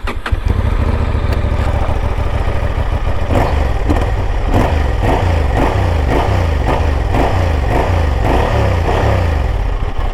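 A Honda Transalp 750 motorcycle engine runs loud and close, idling roughly, then blipped through a steady series of quick, repeated revs that rise and fall.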